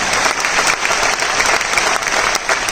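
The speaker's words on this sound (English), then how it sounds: "Please clap for them." An audience applauds steadily at a song launch event for an album, attended by the Finance Minister. The clapping is dense, loud and continuous, with a few brief swells, and no voices rise above it.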